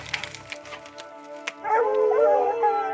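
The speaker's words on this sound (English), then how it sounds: "The dogs that are opening right now and the way they're acting." Hunting hounds bay on a mountain lion scent track in Arizona, several dogs giving short barks and yips before breaking into a sustained, overlapping howling chorus at close range.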